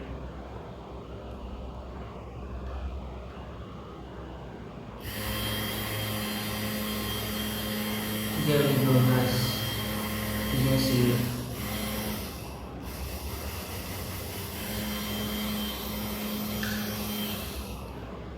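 A small 12V DC motor powered from a 12V mains adapter hums steadily from about five seconds in, with a few louder swells, while someone talks over it.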